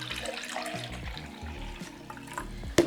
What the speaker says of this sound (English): Let's put some water here.